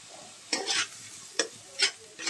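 Egg going into cabbage frying in a pan, with a soft sizzle broken by a few brief bursts of stirring and scraping, close up.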